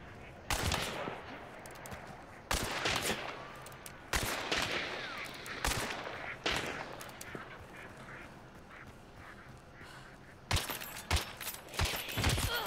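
Gunfire in an online shooter video game with a bounty system: several sharp, loud shot bursts spaced a few seconds apart, with a quieter stretch between them and a cluster of shots near the end.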